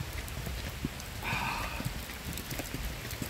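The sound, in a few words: heavy rain shower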